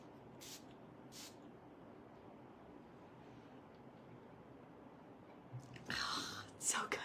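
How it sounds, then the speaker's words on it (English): Skin tint setting spray misted from a pump bottle in a quiet room, with two short, soft hissing bursts near the end after faint earlier puffs. "now we're gonna spray it with a skin tint setting spray"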